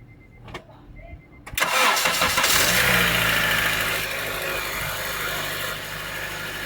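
An Acura TSX engine cranks and catches, roaring up loudly before settling into a steady idle rumble nearby, after a power steering pump noise repair.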